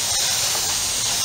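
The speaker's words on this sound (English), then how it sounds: "A little bit of a test spray." A short burst of spray paint is sprayed in a test spray while priming a Warhammer 40k Blood Angels Predator model tank. It gives a steady, close, fairly loud hiss for just over a second, with no talking.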